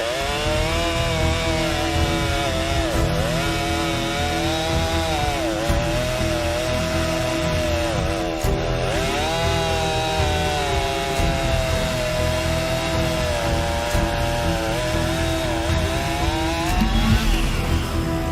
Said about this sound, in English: All right, Ryan, you've got the Stihl 261. You ready? I'm ready. All right, fire it up